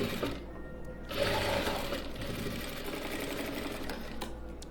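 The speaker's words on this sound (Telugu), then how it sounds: "ఇవి రెండింటిని సమానంగా ఇట్లాగ పట్టుకుంటూ ఈ విధంగా కుట్టుకుంటూ రావడమే" Sewing machine stitching a blouse, its steady mechanical whirring running continuously, close and moderately loud, with no talk.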